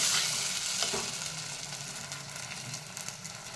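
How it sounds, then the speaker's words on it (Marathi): Capsicum masala made with homemade black masala sizzling and frying in a pan, a steady crackling hiss that is loudest at first and settles slightly, with occasional stirring. "मी चांगला तळून घ्यायचा आहे"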